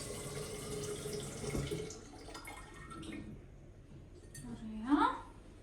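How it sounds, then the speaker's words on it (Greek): Clean water poured into a container at a kitchen table, soft splashing and trickling with a few light clinks of glass, fairly quiet and close, under a woman's speech. "Θα βάλω καθαρό νεράκι εδώ."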